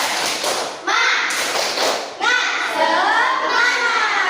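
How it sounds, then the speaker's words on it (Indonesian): A primary school class does a rhythmic spirit clap (tepuk semangat) with a teacher, mixing patterned clapping and thumps with children's chanting voices in a classroom. "Berarti kita harus lakukan tepuk semangat."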